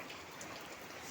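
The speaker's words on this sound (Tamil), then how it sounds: "இன்னைக்கு மழை பெய்யுது" Steady rain falls outdoors, a faint, even hiss of drops with no talking over it.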